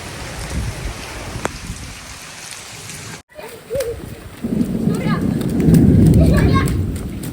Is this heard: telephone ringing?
no